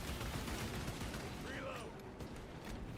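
Bolter fire in a Warhammer game rattles as a dense, noisy barrage under a voice, with a brief tonal flourish midway and sporadic sharp cracks toward the end.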